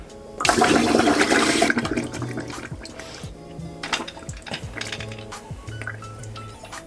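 A CO2 cartridge plunger fires into a toilet holding a simulated clog, releasing a loud rushing whoosh of water and gas, then trickling, gurgling drips and light clinks as it settles.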